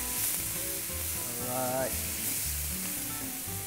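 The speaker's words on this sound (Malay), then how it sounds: "Kita gorengkan dulu. Bawang dengan serbuk kari tadi yang kita rendam dengan air tu." Onion and curry powder, soaked in water, sizzle and fry in a pan with a steady bright hiss and occasional stirring, while a voice briefly speaks over it.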